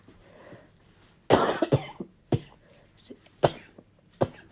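Several sharp coughs at irregular intervals, a loud burst followed by a few quieter single coughs, close to the listener.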